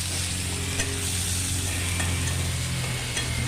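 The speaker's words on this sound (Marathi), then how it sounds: "आणि हे चांगलं परतून घ्यायचं" Onion, tomato and crushed garlic cloves sautéing in a pan, a steady medium-loud sizzle with a low hum beneath, continuous and without talk.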